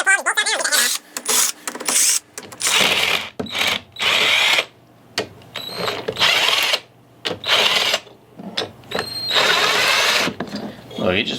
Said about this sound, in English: I'm going to go ahead and undo these bolts around the head